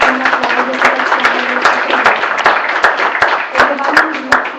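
An audience at a 2014 political gathering to select a candidate for governor of Veneto claps in scattered, uneven bursts, individual hand claps standing out over murmuring voices and talk.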